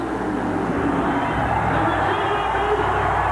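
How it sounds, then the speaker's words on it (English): Dense roaring crowd at a 1988 USHRA monster truck show in Tucson, cheering and whooping steadily throughout, with a low engine rumble underneath. "The crowd, look at, they've gone crazy."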